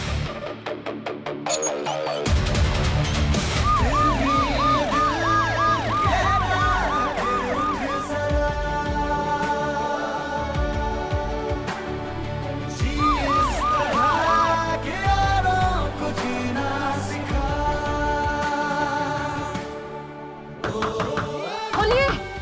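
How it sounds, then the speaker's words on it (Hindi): An ambulance siren wails, rising and falling in two bursts over loud, busy dramatic music, partly buried in the mix. "देव, एम्बुलेंस लेकर जाओ"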